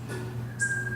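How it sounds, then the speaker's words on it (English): A thin, steady whistled tone runs through the second against a low background hum, quiet and somewhat distant. "Who's whistling?"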